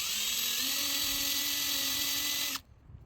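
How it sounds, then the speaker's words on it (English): A high-pitched drill with a sharp bit on its first setting whines steadily through the metal of a Grizzly 1015 belt grinder at close range, then cuts off abruptly, leaving faint background noise. "To our sharp drill bit, and I have it in setting 1, drill setting"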